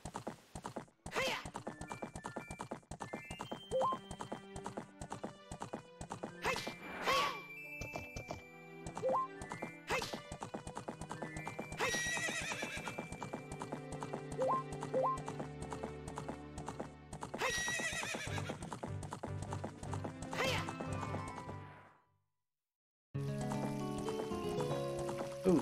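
Horse hooves clip-clop and a horse neighs in the N64 game The Legend of Zelda: Ocarina of Time, heard alongside busy game music with a brief silent gap near the end and no talking.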